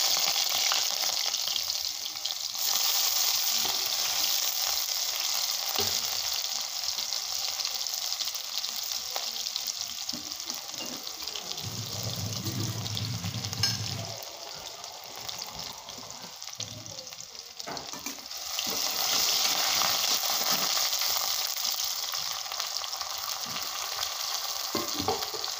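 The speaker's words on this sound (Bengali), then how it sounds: "দিয়ে দেবো পেঁয়াজ কুচিটা।" Chopped onion goes into hot oil with cumin seeds and fries with a steady, close sizzle that swells and eases as the pan is stirred, with no talk over it.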